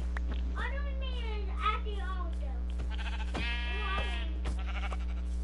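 Sheep in the video game Minecraft bleat several times, wavering and childlike, over a constant low electrical hum.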